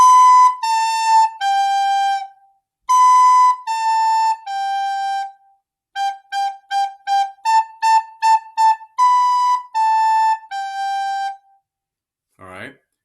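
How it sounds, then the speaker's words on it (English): A recorder plays the simple tune Hot Cross Buns in a music lesson, clear breathy notes in three descending phrases with a quicker repeated-note middle section, played alone up close, ending with a brief squeak. "So hot cross buns sound like this."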